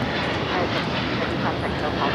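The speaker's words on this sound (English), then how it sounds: "This is United Airlines Flight 39 taking off to Tokyo Haneda on the 787-10 Dreamliner." Boeing 787-10 Dreamliner jet taking off at LAX, a steady broadband engine roar filling the scene at moderate distance, with faint radio chatter mixed underneath.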